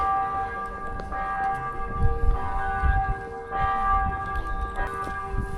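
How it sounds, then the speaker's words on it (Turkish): Church bells ring out from a distance with sustained, overlapping tones, joined by a few louder strokes amid faint outdoor background noise in Kaunas, Lithuania. "Bu çanlar bizim için çalıyor"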